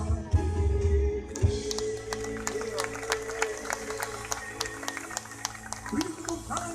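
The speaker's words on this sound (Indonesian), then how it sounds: "Beri tepuk tangan buat Tuhan" A congregation at a healing crusade rally in Manado breaks into sustained applause, dense rapid clapping filling the hall while a voice carries over it and music plays underneath.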